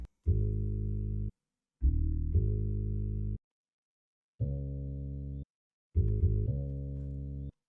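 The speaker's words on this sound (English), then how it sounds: "The next sound that I got is a bass one shot" A deep, sustained bass synth one-shot sample note plays in short held bursts, about five notes with gaps between, clean and loud with no other sounds.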